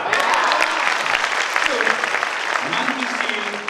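Audience at a direct-sales company meeting in Indonesia applauding, likely standing: dense, steady clapping from many hands fills the room throughout, with voices murmuring and calling out underneath.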